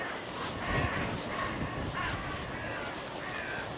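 Crows cawing outdoors alongside other birds calling: several harsh caws at a moderate distance over a steady background hiss, with no talk.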